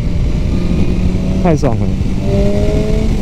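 A Honda CBR1000RR sport motorcycle hums at a steady low drone while being ridden, with a brief rising rev in the middle, under wind noise and a rider's short spoken exclamation.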